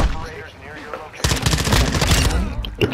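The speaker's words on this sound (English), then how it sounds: "Somebody shooting at you." Video game gunfire: a quieter stretch gives way to a sudden dense, loud burst of rapid automatic shots that continues to the end, with voices heard over it.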